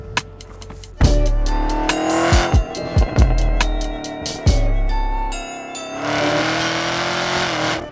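A 2020 Chevy Camaro ZL1 1LE launches hard on launch control, engine revving loud and close with sharp bursts, squealing tires and gear-change breaks, then a sustained roar as it pulls away.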